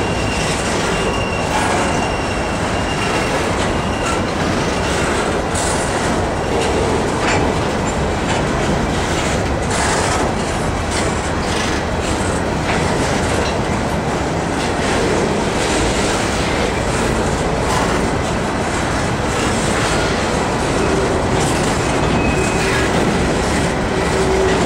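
A slow Norfolk Southern freight train of empty rock cars rolls past close by, a continuous loud rumble with clanking, rhythmic wheel clicks and occasional squealing from the rails.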